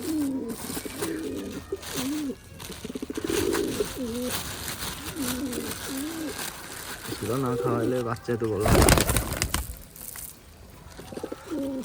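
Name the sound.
pigeons cooing, high-flying Khulna pigeon breed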